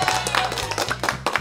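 An applause sound effect dropped into a podcast, a short run of sharp clapping bursts heard alongside a steady low hum.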